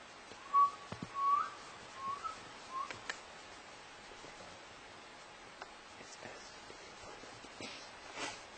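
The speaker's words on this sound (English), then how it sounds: "right now we're hearing whistling coming out of the forest" Whistling drifts out of a forest at night, a few faint, thin whistles early on over quiet rustling and light ambient noise, distant and sparse.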